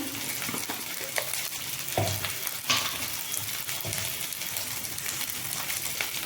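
Spice paste and salt frying and being stirred in a pan for a loitta (Bombay duck) fish curry with fried potatoes, a steady close sizzle with scraping spoon strokes and a few sharper clicks.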